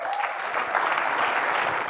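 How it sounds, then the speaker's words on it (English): Steady applause from a crowd at a Nigerian public event, dense clapping for the judges that holds at an even level throughout without pause. "Can we please a round of applause for our judges?"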